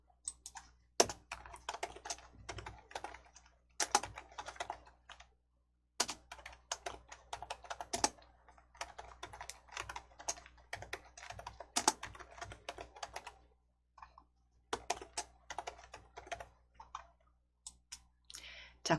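Quiet, close computer mouse clicks sound in irregular clusters of sharp taps with short silent gaps while code blocks are copied in a block-based coding program.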